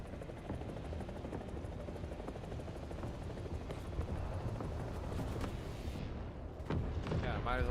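A helicopter in the War Thunder combat game churns with a constant dense rotor roar, with sharp gunfire cracks over it and a voice talking throughout.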